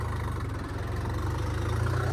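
A Kartar tractor engine idles nearby in a field, a loud, steady low throb with an even pulsing beat and no voices over it.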